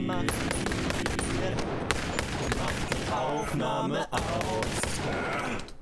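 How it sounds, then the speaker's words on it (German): Rapid gunfire in the VR shooter game Boneworks, dense bursts of shots with metallic clatter crowding the whole stretch, loud and continuous with only a brief gap near the end. "Wenn ihr immer ausweicht, muss ich da wohl doch schießen."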